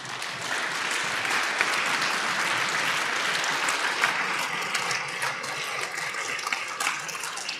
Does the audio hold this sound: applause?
yes